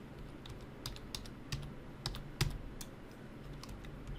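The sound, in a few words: typing a password on a computer keyboard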